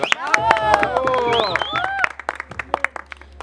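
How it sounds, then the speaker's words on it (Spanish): At a mariachi anniversary celebration, brassy, melodic mariachi music plays, then gives way to scattered hand claps from the audience, loud and close, fading to lighter clapping at the end. "Bueno, y será que el mariachi se merece un aplauso."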